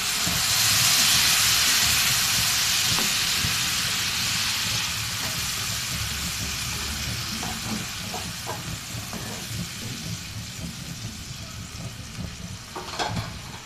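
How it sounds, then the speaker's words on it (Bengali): Water poured into a hot pan of frying spices with salt for pointed gourd do-pyaza, a loud steady hiss of steam and sizzle that gradually eases, with faint clinks near the end. "এই জন্য আমি এখানে একটু পানি দিয়ে দিচ্ছি।"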